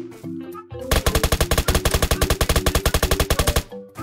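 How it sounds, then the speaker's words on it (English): Automatic gunfire in the Roblox game Apocalypse Rising 2, a long rapid burst of loud close shots at an even rhythm, with a quieter weapon sound just before and after. "I think there's another person shooting"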